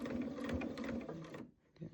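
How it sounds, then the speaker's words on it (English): Sewing machine stitching down the middle of a seam joining white rope for a double rope jelly roll rug, a steady close whirring hum that runs continuously for most of the moment, then stops briefly before a short restart. "So we're just going to sew down the middle of that seam."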